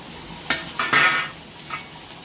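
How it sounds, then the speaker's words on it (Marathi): Coconut, onion, ginger and garlic masala roasting in oil, a close sizzle broken by several quick stirring scrapes of a spoon against the pan over a couple of seconds, with no voices. "आपल्याला तेलामध्ये हा मस्तपैकी भाजून घ्यायचा मसाला"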